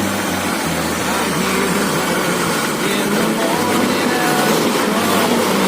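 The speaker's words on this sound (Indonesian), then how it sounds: "RPM-nya udah naik dan ringan" The engine of a retro Toyota Crown, freshly tuned up, runs steadily at raised RPM, a loud, close, continuous rough drone with no breaks and no talk in the clip.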